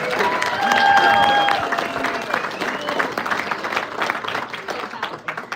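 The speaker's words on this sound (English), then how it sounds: "Let's give them a big round of applause, everybody." An audience applauds at a comedy fundraiser held at a bar and grill, a loud swell of clapping and crowd noise that peaks early and then tapers off, with voices mixed in.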